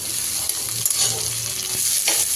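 Potato and vegetable stems fry in a pan for a vegetable curry, a close, steady sizzle broken by a few scraping stirs and light knocks.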